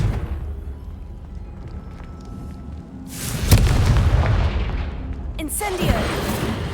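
A Confringo spell explosion in the video game Hogwarts Legacy, a sudden loud blast midway that rolls into a rumbling decay, followed by another crackling burst.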